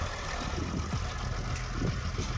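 A tractor engine runs steadily and close by on farmland near a front line while pulling out a cluster munition fragment, a continuous broadband rumble with no voices.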